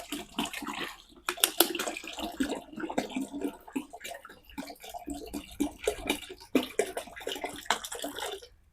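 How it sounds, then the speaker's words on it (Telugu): About two litres of coconut water poured into a container for a plant preparation, a close, irregular run of gurgling splashes and glugs that rise and fall throughout, with no talk. "ఇప్పుడు కొబ్బరి నీళ్ళు పోసాను అనమాట"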